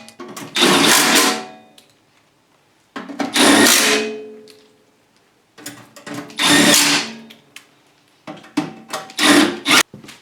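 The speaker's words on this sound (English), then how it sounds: "I'm going to start all the bolts with my impact." An impact wrench starts the oil pan bolts on a snowblower engine in four loud, close bursts, each a short whirring buzz with rapid hammering that rises and then cuts off, separated by brief pauses.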